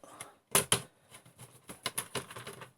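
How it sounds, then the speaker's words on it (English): Two loud plastic clacks as an Atari 800XL keyboard drops into its case, followed by a run of smaller clicks and rattles as it settles in place, close up and with no talking. "So drop the keyboard in now."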